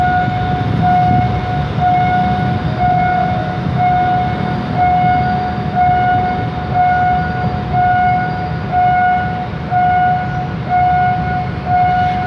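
Express train 83 rolls through the Charan Sanitwong Road crossing in Bangkok with a loud, sustained rumble, while a steady warning tone rings over it without pause.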